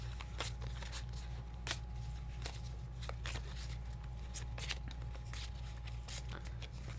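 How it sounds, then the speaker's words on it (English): A deck of game cards for the Arkham Horror card game is shuffled close up, a steady run of quick riffling snaps and soft slides, with a low steady hum underneath and no talking. "All right, so I'm going to shuffle these."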